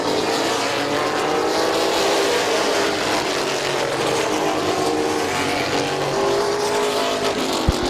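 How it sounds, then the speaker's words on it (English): Race cars at Midvale Speedway roar past in a pack, a loud continuous engine drone with shifting pitch from several cars running close together on the oval, no talk over it. "Big wad of cars behind Huff, who's starting to pull away up front"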